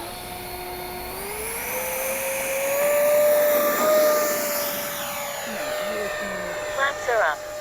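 A Kavan Skyfox L-39 RC jet spools up and takes off with flaps set, its turbine whine rising and swelling then easing as it climbs away, while a voice talks briefly nearby.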